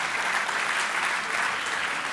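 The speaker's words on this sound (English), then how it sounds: "A big round of applause for my volunteer." A crowd at a live talk-show style event claps steadily, a dense even wash of applause that stays loud for the full stretch with no voices on top.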